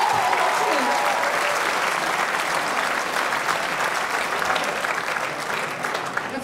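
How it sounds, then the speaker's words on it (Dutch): A crowd at the Ogterop Sportgala 2024 gives the Alcides team a big round of applause: thick, continuous clapping that stays loud and steady, easing only slightly near the end. "En heel groot applaus voor de mannen van Alcides."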